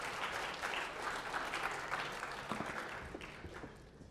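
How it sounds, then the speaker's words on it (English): A university lecture audience at a Yale game theory course applauds in a steady, dense patter of clapping that lasts a few seconds and slowly thins toward the end. "so round of applause again."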